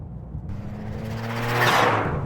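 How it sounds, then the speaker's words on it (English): A tuned car's turbo spools up with a rising whoosh over a steady engine note, wastegate chatter fluttering near the end, close and fairly loud with no talk. "chatter from the wastegate. Turbo starting to spin up."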